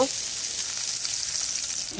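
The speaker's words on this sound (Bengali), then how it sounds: "পেঁয়াজটা ভাজা হয়ে গেছে" Onion frying in oil in a pan, ready for cabbage cooked with eggs, giving a steady, close hissing sizzle that stays even and unbroken with no talk.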